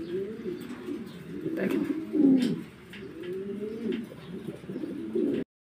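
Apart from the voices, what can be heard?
pigeons cooing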